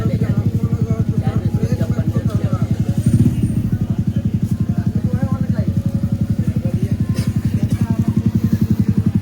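A Yamaha R15 motorcycle idles nearby with a loud, fast, even engine pulse that runs throughout, with a brief burst of extra noise around the middle.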